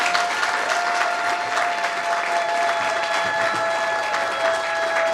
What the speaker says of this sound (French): je vous prie de bien vouloir applaudir pour la maman qui nous laisse un exemple de précieux.